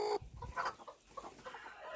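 A turkey in a poultry shed gives short clucking calls close by, a few brief bursts among general farmyard rustling.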